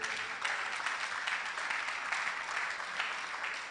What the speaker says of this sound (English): Ladies and gentlemen, let's put our hands together as we bring up stage Abiola Ojo.